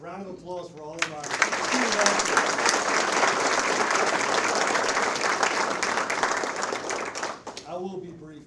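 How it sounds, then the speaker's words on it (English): Audience at a parish school board meeting applauding student athletes, a steady wash of many hands clapping for several seconds, building quickly and fading near the end, with a voice heard briefly at start and finish. "round of applause for all of our"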